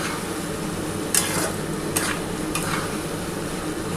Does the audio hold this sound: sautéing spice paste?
yes